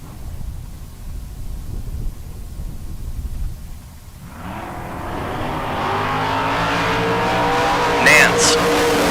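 A 77 Mustang and a Camaro launch at a drag racing bracket event, the engines bursting in after quiet crowd murmur, then a loud sustained roar with rising tones and a brief squeal near the end.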